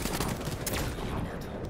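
Dense, continuous gunfire in a video game, a loud crackling fusillade filling the whole short stretch without pause.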